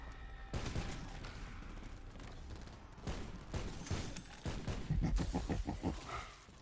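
Gunfire in Call of Duty: Black Ops 4, with scattered shots followed by a loud rapid automatic burst of evenly spaced rounds over a rumbling game background.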